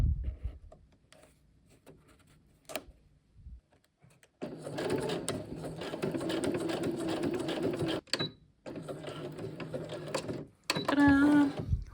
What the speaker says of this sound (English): I'm doing this on a home sewing machine